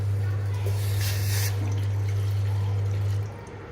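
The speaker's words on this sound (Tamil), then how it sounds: "நம்ம எடுத்து வச்சுருக்கிற ஒரு கிளாஸ் வாட்டரை வந்து இதில் சேர்த்துக்கலாம்" A glass of water poured into a silver cooking pot for a cumin and ajwain drink, a steady splashing pour over a constant low hum that stops abruptly near the end.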